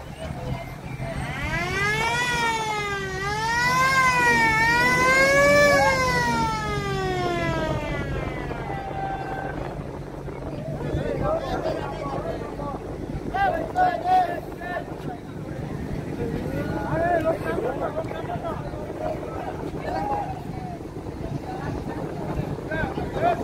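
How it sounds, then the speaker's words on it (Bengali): A passenger launch reverses away from the ghat at Munshiganj, its loud horn blaring in rising and falling wails for several seconds, then steady engine rumble and wind buffeting continue with faint voices in the background. "লঞ্চটি এখন মুন্সিগঞ্জ থেকে ব্যাক গিয়ার দিচ্ছে, মুন্সিগঞ্জ লঞ্চ ঘাট থেকে ব্যাক গিয়ার দিচ্ছে।"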